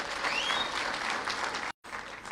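Crowd applause for a CEO at a formal gathering, many hands clapping in a continuous, even roar heard from a slight distance, broken by a brief dropout near the end.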